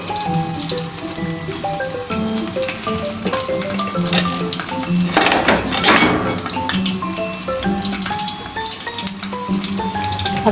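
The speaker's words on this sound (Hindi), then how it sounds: "प्याज का कलर आने तक हम अपने पकोड़े फ्राई करेंगे।" Potato and onion pakoras fry in hot oil over a medium flame, a dense, crackling sizzle with popping bubbles that swells briefly in the middle, close and continuous with no talk.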